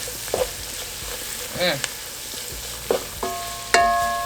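Bacon frying in a pan and being stirred, with a soft sizzle and scattered scrapes and clinks from the utensil. There is a sharper knock near the end.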